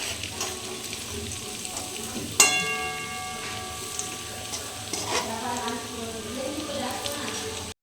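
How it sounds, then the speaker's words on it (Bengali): Fish sizzles steadily in hot oil in a pan, with a sharp metallic clink as it is turned over partway through, then the frying hiss carries on close by. "মাছ ভাজাটা এবার উল্টিয়ে আস্তে আস্তে দেখি কেমন হয়েছে"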